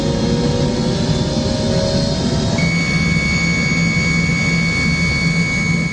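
Air Koryo airliner jet engine spooling up after pushback, a loud steady roar with rising whine tones that step higher midway, heard continuously from inside the cabin without speech.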